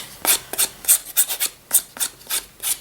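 Rhythmic sanding strokes on a piece being prepared for a spellbook-style book cover craft, about ten short rasping rubs in a steady back-and-forth pattern, close and fairly loud with no talking.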